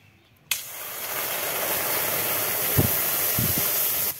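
Milk poured into a hot pan while making a sweet from fried puffed rice, a steady loud hissing wash that starts abruptly and runs on with a few low bumps, no voices.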